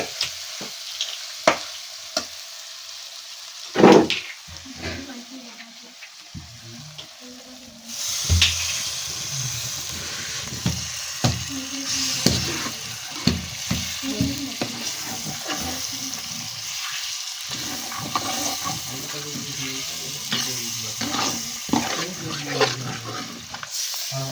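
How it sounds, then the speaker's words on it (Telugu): Chicken curry sizzles and crackles in hot oil, with a quiet start, then steady frying and occasional clinks of stirring. "మొత్తం నూనెలో గోలించింది, మంచిగా ఫ్రై చేసింది."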